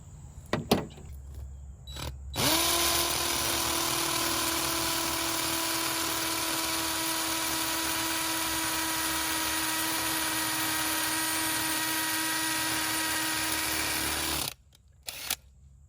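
Electric drill boring a hole for a wall anchor during a Pioneer mini split install, a steady loud whine running about twelve seconds after a few short starts, then cutting off abruptly.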